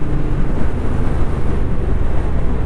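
Triumph Speed Twin 1200 RS motorcycle ridden on the road in freezing conditions, a loud steady engine drone buried under heavy wind rush against the microphone.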